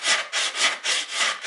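Close, rhythmic back-and-forth rasping from hand sanding on a guitar body, about six even strokes in quick succession with no talk.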